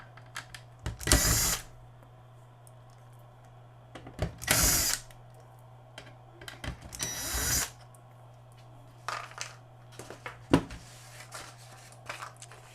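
A power screwdriver backs screws out of a Magnavox TV's power supply board in three loud whirring bursts, with quieter clicks and brief tool sounds afterward over a steady electrical hum.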